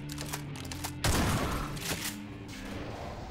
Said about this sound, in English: I love my shotgun.